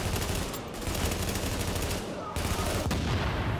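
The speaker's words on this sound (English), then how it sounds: "There's not a very big explosion." Loud, dense bursts of gunfire and blasts fill a firefight in The Division video game, a shooter set in a store with gasoline cans on the counter, with a sharp cut and continuing rapid shots.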